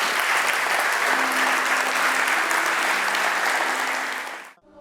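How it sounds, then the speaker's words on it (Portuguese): A church congregation gives sustained applause, dense and steady clapping at close range that fills the space, then cuts off abruptly at the end. "Uma salva de palmas para Jesus."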